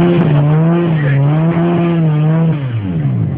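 A Yamaha motorcycle numbered 54 revving at the Cibula Fest 2011 motorcycle show, loud and close, holding a steady droning pitch that dips and rises as the throttle changes.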